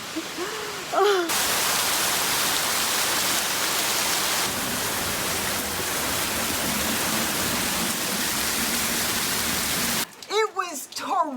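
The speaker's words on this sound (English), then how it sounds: "It was torrential rain" Torrential rain pours down over an Italian village in a loud, steady broadband roar that fills most of the stretch, with a voice speaking briefly before it and again as it ends.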